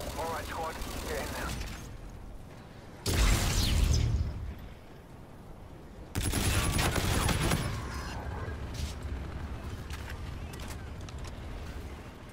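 Gunfire in a shooter video game: two loud bursts of rapid shooting and blasts, one early and one midway, set against quieter battlefield noise, with a person talking between them.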